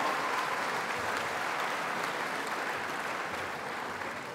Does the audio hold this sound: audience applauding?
yes